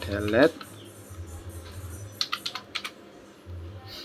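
Fingers tap out code on a computer keyboard in short bursts of close, crisp clicks, with someone talking softly in the gaps.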